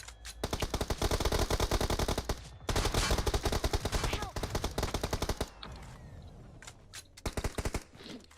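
Rapid automatic gunfire from a house in PUBG Mobile, long rattling bursts broken by short pauses, then scattered single shots and a final burst, loud and close.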